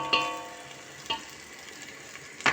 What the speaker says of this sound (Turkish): biraz domatesi kavrulsun